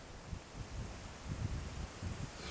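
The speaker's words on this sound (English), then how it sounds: "It's fairly windy." Faint, gusty wind buffets and rustles a homemade tent vestibule awning in low rumbling bursts, a soft outdoor whoosh with no voices, in upstate New York.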